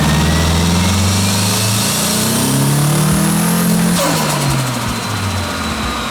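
A turbocharged SR20DET engine in a Nissan Silvia revs hard on a dyno, its loud rising drone climbing steadily for several seconds before the throttle lifts and the pitch falls away.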